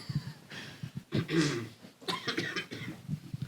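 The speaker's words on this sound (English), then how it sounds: "You just coughed into the microphone." Several rough coughs land close to a microphone in quick succession, loud and abrupt, with breathy pauses between them.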